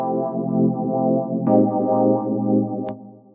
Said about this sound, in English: The two things that are contributing to the movement in the sound are the phaser and the auto wah.